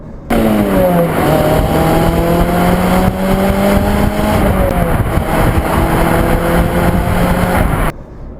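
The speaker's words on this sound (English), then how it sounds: "the car makes a lovely, lovely sound as well from that 2-litre naturally aspirated engine" A high-revving 2-litre naturally aspirated Renault Clio 197/200 RS Cup engine roars close by, pitch climbing through the gears with brief dips between shifts, loud and continuous.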